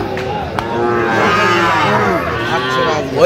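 Cattle at a livestock market in Noakhali, young bullocks offered for sale, bellow in long, loud, close moos that overlap almost continuously, with brief voices in the background.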